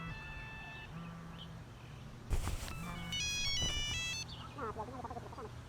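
A telephone rings in a quiet room with a low hum, a burst of electronic ringtone notes rising and falling for a couple of seconds and then fading into softer warbling tones.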